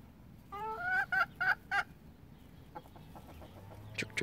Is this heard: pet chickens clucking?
yes